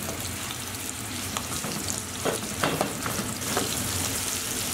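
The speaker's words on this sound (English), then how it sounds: "Once your oil is nice and hot, we're gonna place our mince straight into our pan in the middle and just push down." Minced meat for a Persian pan kebab frying in hot oil in a pan, a steady close sizzle with light crackles and a few pressing or scraping touches, no talking.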